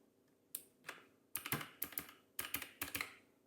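Keystrokes on a Raspberry Pi 500+ keyboard, arriving in quick clustered bursts of several clicks each with short pauses between, close and fairly quiet with no talk.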